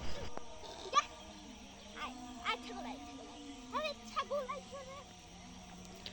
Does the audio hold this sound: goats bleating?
yes